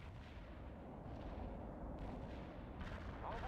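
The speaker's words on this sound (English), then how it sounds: "Ivan is calling in a heavy artillery barrage on your position." A heavy artillery barrage in the video game World in Conflict, heard as a dense, continuous low rumble of shelling with bursts of heavier impacts, fairly quiet overall and without any voices.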